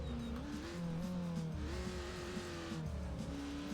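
An ATV engine droning offroad in ATV Offroad Fury 4, its pitch rising and falling with shifts in throttle and gear under a continuous steady roar, with no voices.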